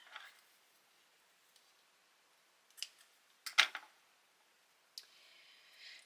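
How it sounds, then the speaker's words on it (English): Scissors trimming off thread ends during a sewing craft, with a few close, crisp snips clustered in the middle among faint handling noises, and no talking. "So now I can trim this off."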